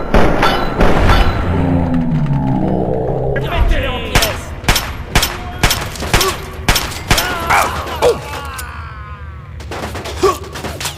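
Gunfire from the video game Fallout 3: a rapid string of loud, sharp shots and booms firing in quick bursts, close and dominant, with a voice talking over the start.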